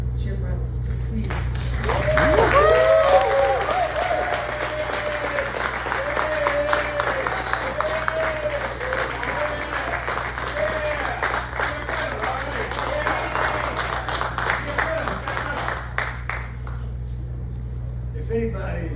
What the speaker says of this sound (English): who's leading the charge on those thunderous applause